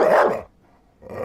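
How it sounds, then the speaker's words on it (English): A dog barks close and loud in a single sharp burst, followed by a brief quiet and the start of another bark. "That's a dog right there."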